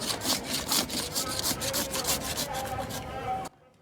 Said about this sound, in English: That was the sound of freshly shaven ice.